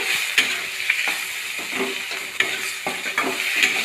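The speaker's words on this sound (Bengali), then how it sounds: "হলুদের গুঁড়ো লঙ্কার গুঁড়ো জিরের গুঁড়ো ভালো করে দিয়ে একদম ভালো করে শুকনো শুকনো করে মশলাটা পুরো কষিয়ে দেবো" Turmeric, chili and cumin powder paste frying and being stirred in a pan for a potato curry, a steady close sizzle broken by repeated scraping strokes of the spoon against the metal.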